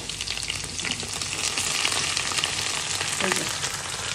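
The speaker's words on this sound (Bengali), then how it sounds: "শুকনো মরিচ দিয়ে প্রথমে রসুন বাগার দিব" Garlic and dried chili sizzle and crackle in hot oil for a dal tempering, a steady close frying hiss with occasional stirring scrapes and pops.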